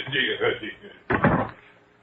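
A door shuts in an old-time radio drama, giving one solid, fairly close thud after a stretch of quiet spoken dialogue.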